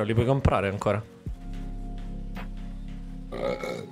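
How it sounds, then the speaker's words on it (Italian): A big, long, deep burp rumbles for a couple of seconds right after someone speaks briefly in Italian, loud and close to the microphone, with more speech resuming at the end. "un rutto bello grande."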